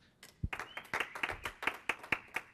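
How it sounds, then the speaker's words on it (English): Scattered, fairly quiet applause from the audience at a software conference talk, a dozen or so distinct hand claps in an uneven rhythm with almost no talking. "Go ahead and give him a big round of applause."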